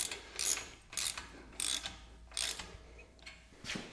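Screws being tightened on a VEVOR electric demolition jack hammer during assembly, heard as about six short ratcheting, clicking bursts in an irregular rhythm, close and moderately loud, with no talk.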